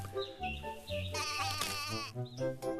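Several cartoon goats bleat in a children's animated story, with wavering, quavering cries over light background music, close and fairly loud.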